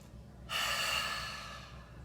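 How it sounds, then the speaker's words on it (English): A deep breath is drawn in through the nose and then blown out through the mouth, one long airy exhale that is loud and close, with no talking. "take a big breath in through your nose. Breathe in, and then blow that air out your mouth."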